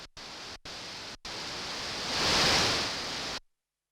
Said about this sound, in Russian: Также у нас здесь есть на борту генератор шума.